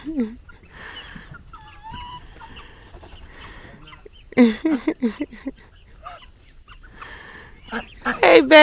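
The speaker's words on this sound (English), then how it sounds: "There's the rooster" A rooster and hens calling close by, with clucks, squawks and a loud crowing burst, the birds growing busier toward the end.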